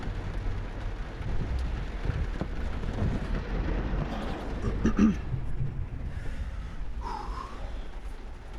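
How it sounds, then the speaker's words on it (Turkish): Steady rain pours down in a dense, hissing wash, with a faint rumble underneath and a brief louder patter partway through. "Şu yağmuru bakın ya."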